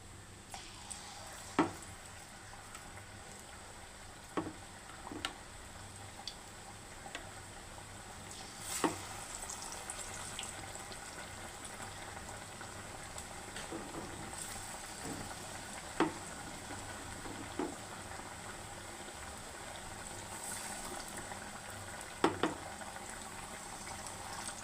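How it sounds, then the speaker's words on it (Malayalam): Banana fritters, pazham pori in batter, deep-frying in hot oil: a continuous soft bubbling sizzle with occasional sharp clicks and taps of a utensil against the pan, steady and fairly quiet throughout. "അപ്പോൾ നമ്മുടെ എണ്ണ ചൂടായിട്ടുണ്ട്. നമുക്കതിൽ ഓരോന്നായിട്ട് ഇട്ട് കൊടുക്കാം."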